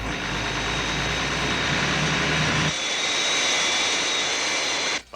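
Fireflash airliner on landing approach, a steady loud jet-engine roar throughout with a sharp drop in low rumble partway and a brief dip near the end.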